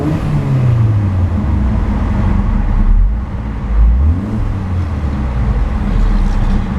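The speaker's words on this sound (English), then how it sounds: "A much more pronounced sound being that this car does have much larger dual outlet exhaust outlets at the back." A 2014 Hyundai Veloster Turbo revs and accelerates, its turbocharged engine and large dual exhaust outlets giving a loud, deep, continuous rumble with rising pitch sweeps and a brief dip midway.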